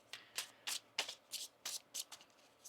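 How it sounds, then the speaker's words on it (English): A deck of tarot cards is shuffled close up in about ten quick, crisp riffling bursts at an even rhythm, quiet and heard alone. "One more shuffle here."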